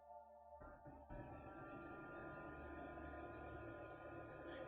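A small mini air cooler desk fan runs on its second speed setting, a faint, steady hum with a slight whine that starts after a brief quiet moment and holds evenly to the end.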